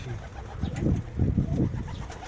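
Pigeons coo in a loft, soft throaty burbling calls repeating close by in a few rolling bursts over low background noise.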